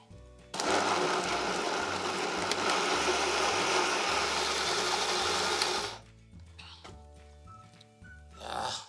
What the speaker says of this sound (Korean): 뚜껑 닫고 갈아 보겠습니다.